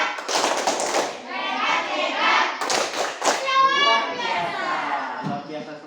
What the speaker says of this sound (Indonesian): Coba semuanya kasih tepuk hebat dulu.